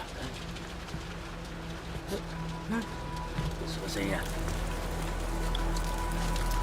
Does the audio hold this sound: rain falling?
yes